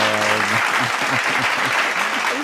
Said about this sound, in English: love the applause, Daniel.